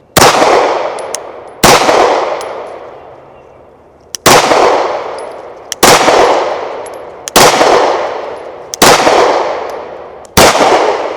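Single loud pistol shots from a Sig Sauer P365 Fuse fired at an outdoor range, about seven sharp reports spaced a second or two apart, each followed by a ringing decay.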